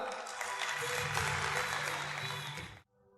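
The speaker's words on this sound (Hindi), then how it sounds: "आपकी भरपूर तालियों में" An audience at a speaking event bursts into full applause, many hands clapping loudly and evenly before stopping abruptly.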